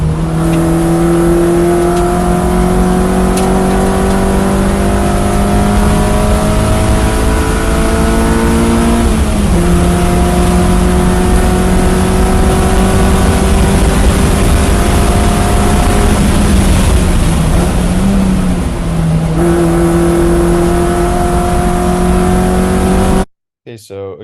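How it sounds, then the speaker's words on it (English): Race car engine on a track, held at steady high revs with rising and falling pitch as the driver rolls on and off the throttle through corners, loud and continuous before cutting off abruptly at the end. "it sounds like you're getting back to throttle quite easily and quite far before the apex"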